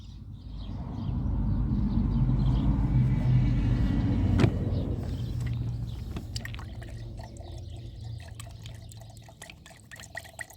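Coolant glugs from a 5-litre jug into the cooling system of a leaking Volkswagen Touareg, a steady pour with low gurgling that fades toward the end, alone without talk.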